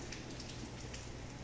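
Steady rain falls in Recife, a dense, even hiss of drops hitting surfaces at low volume with no break and no voices.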